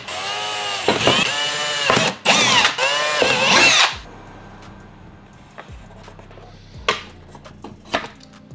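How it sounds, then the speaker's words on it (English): A power drill boring screw holes for a ram air intake snorkel on a 2020+ Toyota Supra MK5: several loud, close bursts of whining drilling in the first four seconds, then quieter clicks and brief tool noises. "now that we actually have our four holes drilled out for the screws"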